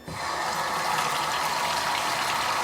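Kitchen faucet with the flow restrictor removed, water gushing at full pressure in a loud, steady hiss that starts abruptly and runs unbroken to the end.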